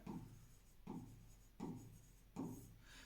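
Chalk or marker writing on a board during a class 10 geometry lesson, four faint rhythmic strokes a little under a second apart, close by and quiet, with no talking.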